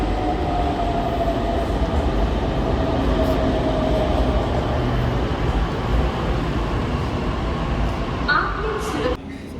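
Inside a metro train, a steady rumble and hum fills the whole stretch, a loud continuous drone with a faint tone, and voices under it, ending with a brief clatter.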